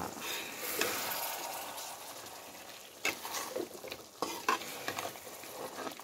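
Chicken and fried potatoes being stir-fried into a red kosha curry, a soft sizzle broken by bursts of spatula stirring and scraping against the pan, fairly quiet overall.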